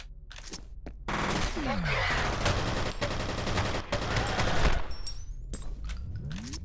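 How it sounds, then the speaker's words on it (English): Burst fire from a gun in the video game F.E.A.R., heard as loud, dense volleys of rapid shots over a few seconds, with short gaps between bursts and no talking. "now it has a burst that sounds like it's firing about 7 bullets, but actually fires 3."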